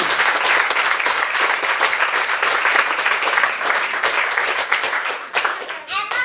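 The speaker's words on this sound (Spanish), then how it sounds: "Les pediré un aplauso para todos y a todos." Crowd applauding steadily at a street inauguration ceremony in Ixmiquilpan, Hidalgo, dense continuous clapping throughout that thins out near the end, with a few voices mixed in.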